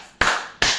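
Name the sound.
audience clapping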